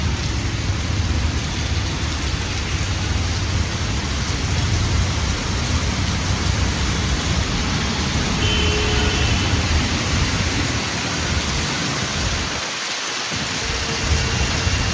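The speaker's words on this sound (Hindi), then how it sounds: "इतनी तेज बारिश हो रही है," Heavy rain with strong wind pours steadily and loudly, a dense continuous roar of downpour with gusts, unbroken for the whole stretch apart from one brief dip.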